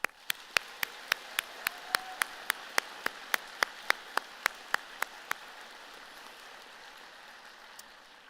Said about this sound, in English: Now let's give them the loudest round of applause.